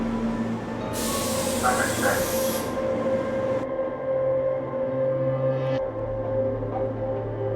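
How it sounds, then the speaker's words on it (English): A train pulling into a station, a loud rumbling roll with a burst of hissing air brakes and a brief squeal of wheels, steady and close, with a person's voice heard over it. "my train is coming here"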